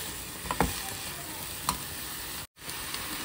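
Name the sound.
sautéing vegetables with salt and black pepper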